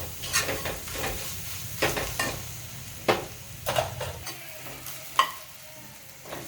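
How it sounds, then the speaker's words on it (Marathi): Ground masala for a fresh pigeon pea curry sizzles steadily in a pan while a spoon stirs it, with sharp scraping strokes at irregular intervals, close and clear with no talking. "छान आपण परतून घेऊ त्याचा कच्चापणा जाईपर्यंत"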